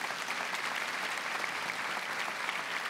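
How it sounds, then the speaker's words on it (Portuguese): A large church gathering gives sustained, dense applause honouring its members, an even wash of clapping from many hands that holds steady throughout without pause. "Eu quero uma salva de palmas a todos os sócios."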